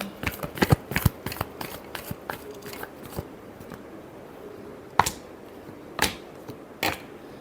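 A deck of tarot cards being shuffled by hand, giving a fast run of crisp riffling snaps at first and then a few louder, isolated card slaps with quiet gaps between them, close and with no voices.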